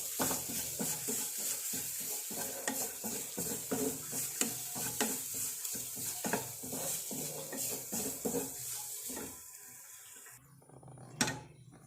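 Oil and mustard seeds sizzle and spit steadily while a utensil scrapes and clinks against the pan, the sizzle fading near the end.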